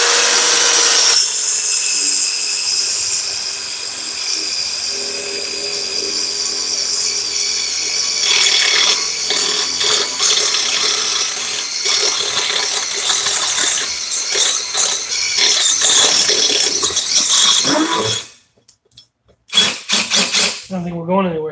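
DeWalt and Milwaukee impact drivers run in a head-to-head test, a loud, sustained high-pitched whine with rattling impacts that carries on for about eighteen seconds before cutting out abruptly, with people talking briefly afterward.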